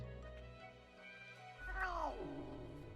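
A single cat meow in a video game, a drawn-out call that bends downward in pitch, heard fairly quietly over a soft background hum.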